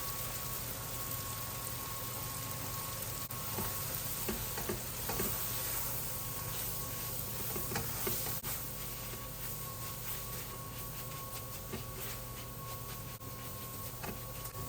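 Garlic and flour cooking in a pan for a from-scratch green bean casserole, a steady quiet sizzle and fry with occasional scraping stir clicks, no talking over it.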